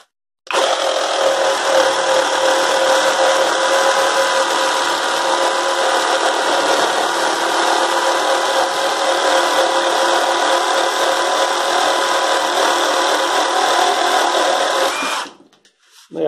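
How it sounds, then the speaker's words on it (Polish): A Parkside Performance PSSAP 20-Li B2 cordless reciprocating saw cuts steadily and loudly for about fifteen seconds, a dense buzzing rasp, then cuts off abruptly. "Ja w tej chwili zacznę robić trzecie cięcie."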